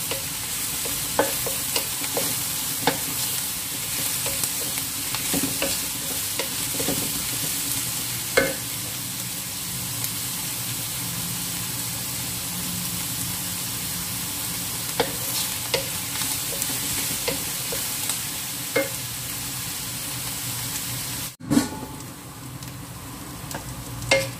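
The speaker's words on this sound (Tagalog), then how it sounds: "iba-brown natin yung onion guys. Igigisa natin." Onions sautéing in a pan as the base for an Indian-style jackfruit curry, a steady loud sizzle with frequent stirring scrapes and clicks throughout, close-up with no talking.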